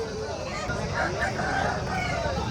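A rooster crows amid the dense babble and bustle of the Mydukuru chicken market, its call partly buried under the surrounding crowd noise.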